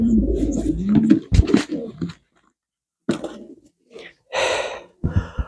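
Pigeons of Lini Vos, Houben and Panter lines, including a breeding pair with a hen sitting on an egg in a bowl, cooing close by in low, rolling calls with brief pauses and some breathy sounds.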